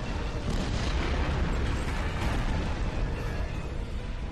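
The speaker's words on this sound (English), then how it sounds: "Detonating charges." Charges detonate in the Star Trek Online video game with a loud, continuous rumbling explosion that fills the whole stretch and never lets up.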